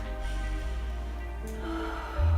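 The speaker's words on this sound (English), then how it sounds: "Breathing into the chest." Deep, steady breathing during a beginner arm-balance yoga session, with soft sustained background music running underneath throughout.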